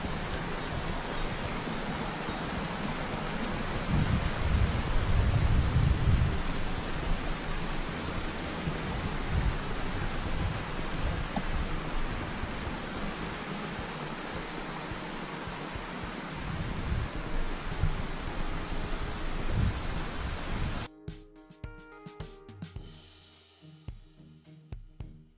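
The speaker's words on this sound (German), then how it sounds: "Wir hören jetzt noch einen Moment den schönen Ton vom Bach zu." Griesbach mountain stream in the canton of Vaud flowing on an autumn hike, a steady broad rushing of water heard close and continuous, ending with a brief rustle of handling.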